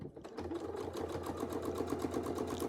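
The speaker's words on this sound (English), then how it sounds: "And then we'll sew." Sewing machine running steadily while quilting with a Westalee Mini ruler set, a continuous close rapid needle rhythm after a brief start, with no talking.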